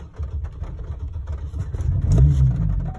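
A Chevy Colorado/GMC Canyon truck engine, one with an evap leak, cranks and catches, then settles into a rising, rumbling idle close by with no talk.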